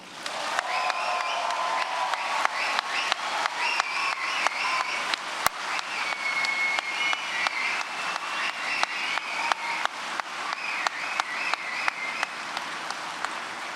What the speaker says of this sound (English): give your loudest cheer and applause